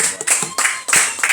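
A church congregation at worship claps for the Lord in quick, bright bursts, several loud rounds of hand claps with cheering voices mixed in.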